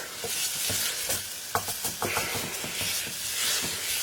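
A thick mixture for pork enchiladas is stirred in a hot pan, a continuous close sizzle broken by repeated scraping and tapping of the spoon against the pan in an uneven rhythm, no voices.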